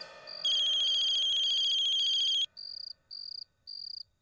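Electronic phone ringtone on an unanswered call, a continuous warbling trill for about two seconds followed by four short repeated beeping pulses, clear and alone.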